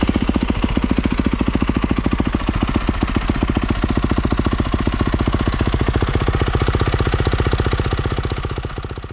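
Kawasaki KX450F dirt bike engine idling after starting to warm up, a loud, close, steady rapid thumping that eases slightly toward the end.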